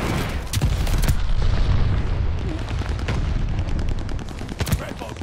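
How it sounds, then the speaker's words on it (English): Explosions and gunfire from glide bombs in a first-person shooter video game, with booming blasts and sharp shot bursts spread across a dense, loud battlefield mix, with a brief call-out from the game. "Enemy glide bomb incoming."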